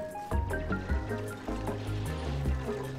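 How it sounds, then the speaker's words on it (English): Water gurgles and fills in Oxygen Not Included, a soft bubbling pour with repeating liquid plinks and tonal drips, moderately quiet, layered over light background game music. "we got some water coming in"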